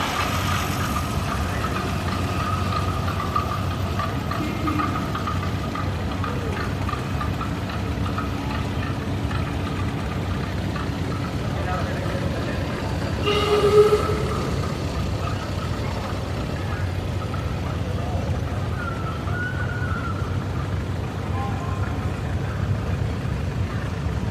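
A 1929 John Deere GP tractor runs at a threshing show parade with a low, steady engine rumble that stays even throughout, with faint background noise and no clear talk.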